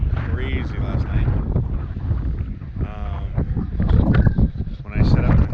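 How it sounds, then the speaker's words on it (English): Gusty wind rumbles across the microphone at a campsite in Algonquin Park under continuous close speech, a low blustery roar that rises and falls. "It's still windy, but it's calmed down a lot."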